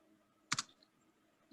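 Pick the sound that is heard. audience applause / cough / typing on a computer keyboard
typing on a computer keyboard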